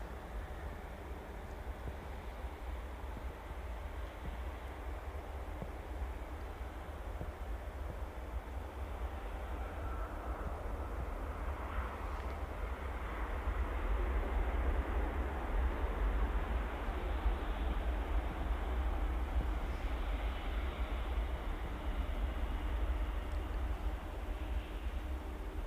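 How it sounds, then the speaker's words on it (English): Saudi Boeing 787 Dreamliner touching down at Manchester Airport, a broad low roar of engines that builds and holds at a moderate distance, with no talk. "Here's the Saudi Dreamliner, absolute beauty"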